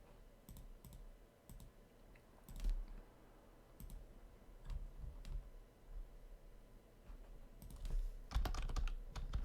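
Computer keyboard keys clicking in uneven, scattered bursts of typing, close and fairly quiet, with short pauses between clusters and a faster flurry near the end.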